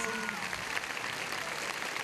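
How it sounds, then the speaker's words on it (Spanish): An audience applauds a harpist at a symphonic mariachi concert, a brief, steady burst of crowd clapping with some murmur mixed in. "Quiero que me le regalen un fuerte aplauso."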